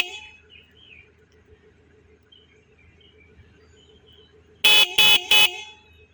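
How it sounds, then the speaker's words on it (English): An electric kids' ride-on motorcycle sounds its horn in three short, loud, shrill beeps near the end, after a few seconds of quiet background hum. "And here we have a horn."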